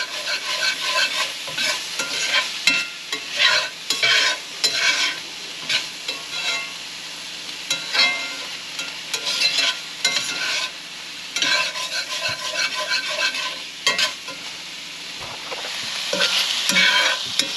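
Deer heart pie filling cooking in a pan, a continuous close sizzle broken by frequent scraping and stirring strokes at an uneven rhythm, with no talking.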